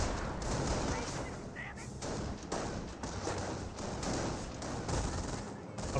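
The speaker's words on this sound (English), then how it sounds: "Rifleman Squad does get suppressed by the MG42" MG42 machine gun fire in Company of Heroes plays as a dense, continuous rattle of rapid bursts amid battlefield explosions, loud and sustained throughout with no break.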